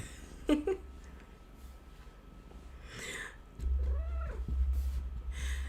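A kitten-like adult cat meows a few times indoors, with brief sharp calls early on and a rising, bending meow near the end over a low background hum.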